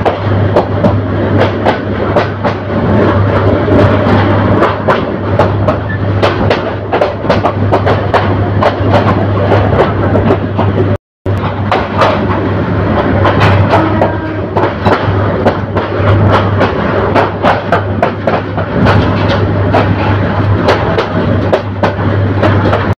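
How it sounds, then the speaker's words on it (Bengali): Train rolling slowly into Bhairab Bazar junction, a loud, steady rumble with repeated clickety-clack of wheels over rail joints and a constant low hum, one brief dropout midway, no voices. "ট্রেনটি ধীর গতি নিয়ে ভৈরববাজার জংশনে প্রবেশ করছে।"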